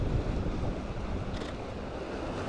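Ocean waves crash on a beach at sunrise, a steady loud wash of surf mixed with wind noise across the whole stretch.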